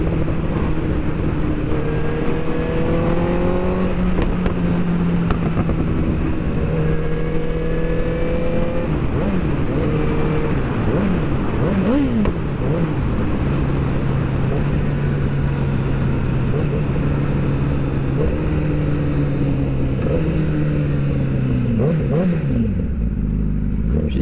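A Honda CBR1000RR sport bike engine revs and pulls through gears on a lakeside mountain road ride, loud and continuous from the rider's position, with rising pitch sweeps and shifts and steady wind rush throughout.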